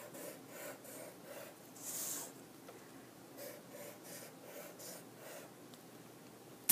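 An embossing tool draws a large zigzag line, giving soft, close scratchy strokes repeated in a quick back-and-forth rhythm, each a brief rasp, with a slightly longer rub near the middle and a faint click at the end.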